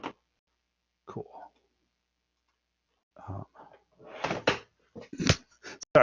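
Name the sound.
objects being knocked off a desk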